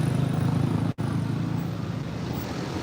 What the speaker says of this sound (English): Usually you hear that loud muffler noise on a motorbike